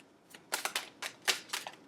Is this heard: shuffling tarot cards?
yes